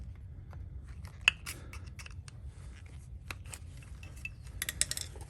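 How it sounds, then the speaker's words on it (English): Stainless steel backing is peeled and pried off a Toyota Sienna rear brake pad, giving a scattered series of faint, sharp metallic clicks and scrapes at close range over a low background hum. "Then we're gonna remove that stainless steel backing on this brake pad."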